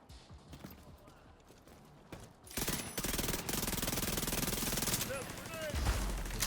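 SMG fire in The Division 2 comes as rapid automatic bursts, quieter at first and then louder and sustained from about midway, with clattering shell and impact sounds mixed in.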